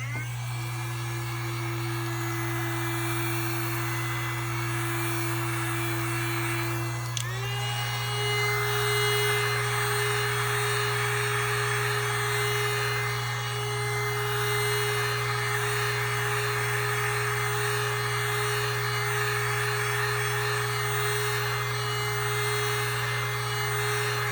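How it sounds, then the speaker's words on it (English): A heat gun blows over resin poured into a round druzy tray mold, a steady electric whine and whoosh that holds throughout, shifting pitch once early on, with no talking. "I think I will heat gun this real quick."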